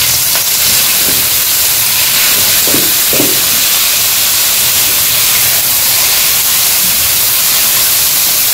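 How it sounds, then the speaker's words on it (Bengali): Leafy greens frying in a pan with garlic, giving a loud, steady hissing sizzle that stays close throughout, with a few faint stirring knocks. "ভালো করে ভেজে দেবো।"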